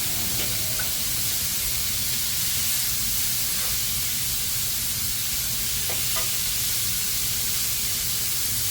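Hamburger meat fries in a pan with a steady, loud sizzling hiss that runs continuously, broken by a few faint scrapes and taps of stirring, and no one speaks.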